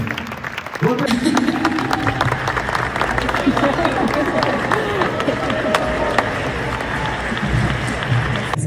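A hall audience rising to a standing ovation for the late singer, with dense sustained clapping from a large crowd that swells after a brief opening and holds steady, loud and close, with some voices mixed in.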